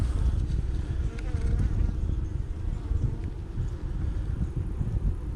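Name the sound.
honeybees buzzing during beehive inspection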